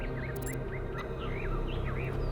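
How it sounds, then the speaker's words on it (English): Several birds chirp and tweet in short, rising calls in the video game The Talos Principle, over a low steady background hum, fairly faint and with no voices. "Do you hear the birds chirping outside the door?"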